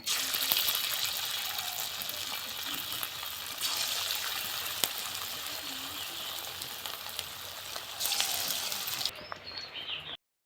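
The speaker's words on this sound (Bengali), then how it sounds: "এগুলো আমি একইভাবে ভেজে নেবো" Cabbage pakoras deep-frying in hot oil for a Bengali badhakopir pokora recipe, giving a loud, steady, close sizzling hiss that runs unbroken for the whole stretch, with slight swells in intensity and no talking.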